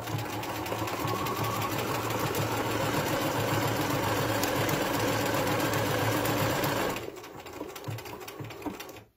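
A Bernina 1080 sewing machine stitches a flower pattern with a steady, rapid mechanical whir and needle chatter, close and loud, then slows and stops near the end with a final few stitches.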